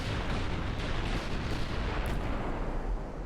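Dense, rumbling barrage of naval gunfire in the Ultimate Admiral: Dreadnoughts warship game, a loud continuous roar of heavy booms with no talk.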